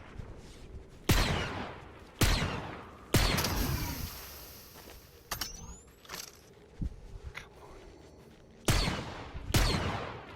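Sci-fi blaster fire in a video game: a handful of sharp, loud shots in uneven bursts, with quieter scattered effects and rustle between them and no voices.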